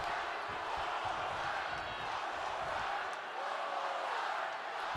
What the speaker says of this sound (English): Crowd shouting one more time